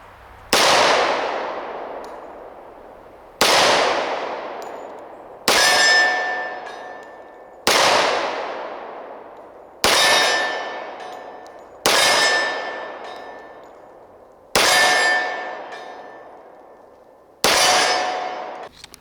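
Tisas D10 10mm 1911 pistol fired at steel targets 20 yards away, eight separate loud shots, each followed by a bright ringing clang off the steel, spaced about two to three seconds apart with no talk.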